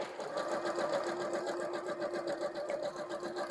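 A Janome sewing machine runs steadily while stitching a zigzag through fabric, its rapid even mechanical whir and needle ticking continuous and close for the whole stretch.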